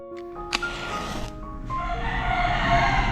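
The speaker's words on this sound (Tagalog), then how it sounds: "Maraming manok ang ating kapitbahay kaya maingay ang ating background." Neighbours' roosters crowing at dawn in a front yard during a birthday celebration, with a couple of loud, close crows followed by a steady, rising wash of outdoor noise and other fowl.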